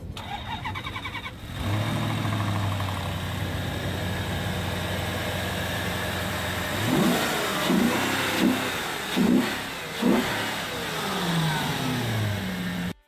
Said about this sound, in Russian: Да и послушать очередной штатный звук мотора.